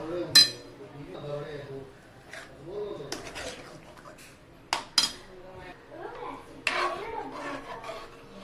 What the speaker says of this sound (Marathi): आता आपण स्मॅश केलेल्या सगळ्या भाज्या त्याच्यात टाकून घेऊया.